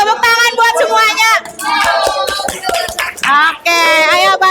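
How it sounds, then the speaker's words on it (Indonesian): Children clap their hands in applause during a classroom ice-breaking activity, with scattered claps mixed into loud, bright children's voices calling out over the few seconds. "Tepuk tangan buat semuanya."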